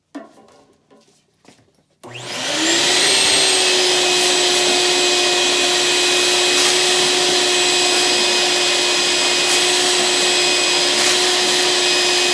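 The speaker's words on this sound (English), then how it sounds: "I'll vacuum that up before we leave." A vacuum cleaner cleans out a pellet stove, first a few soft knocks and scrapes, then the motor starts and holds a loud, steady whine with a constant tone for the rest of the clip.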